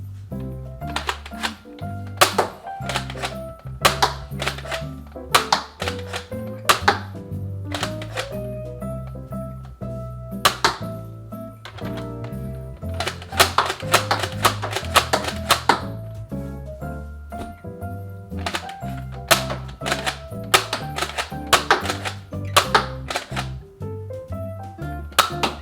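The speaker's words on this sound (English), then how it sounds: "no matter where you load a dart, it is going to fire that one" A Nerf Warden-style dart blaster is worked repeatedly, giving sharp plastic clacks and thumps in irregular bursts, close and clear, with no talking.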